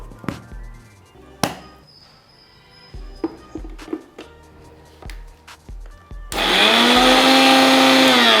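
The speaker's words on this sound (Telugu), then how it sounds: "తర్వాత ఇది మిక్సీ పట్టుకోవాలి సాఫ్ట్ పేస్ట్ అయ్యేంత వరకు" A kitchen mixer grinder blending green chillies and salt into a paste: several sharp knocks and clatters come first, then the motor starts up in a loud, steady, whirring grind that runs to the end.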